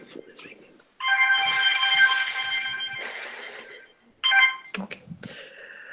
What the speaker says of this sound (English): Just a moment please, my phone is ringing.